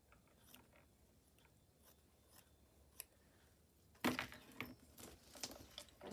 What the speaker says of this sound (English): Now I need to cut down here.